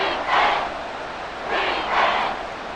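Arrowhead Stadium crowd noise in a Madden 24 Ravens vs Chiefs game, a broad roar that swells in two loud waves and eases between them, with no talk over it.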